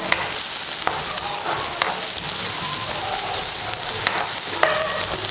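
Onion fries in a pan for dosa preparation, a loud, dense, continuous sizzle close up with occasional spatula scrapes, no voices.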